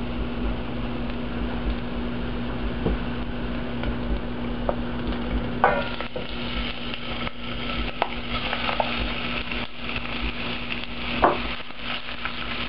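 Pork and onions cooking together in a pan, a steady sizzling fry with occasional stirring scrapes and clicks, close and moderately loud with a constant low hum underneath.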